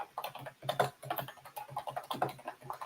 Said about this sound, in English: I'm getting better on my keyboard.